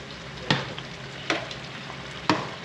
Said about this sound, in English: And we're gonna have to constantly stir this.